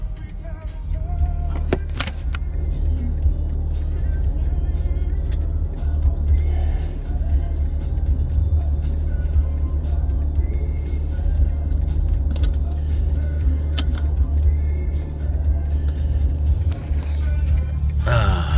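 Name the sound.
BMW G80 M3 car driving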